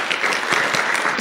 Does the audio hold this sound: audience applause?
yes